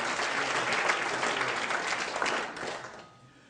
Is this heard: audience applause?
yes